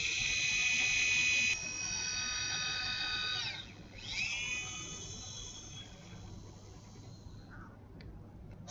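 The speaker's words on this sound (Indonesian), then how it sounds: "kemudian kita drill" Surgical guide drill during a dental sinus lift with a CAS kit, a high-pitched steady whine that drops in pitch and wavers as it engages, then fades, close with no talk.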